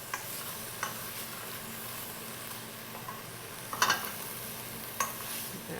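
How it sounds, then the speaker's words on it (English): Pancetta frying in a pot for cannellini bean soup, with a quiet steady sizzle and a few scattered scrapes and taps as it gets stirred, one louder clatter midway. "Give our pancetta a stir. We don't want them to burn, but we do want them to get very crispy."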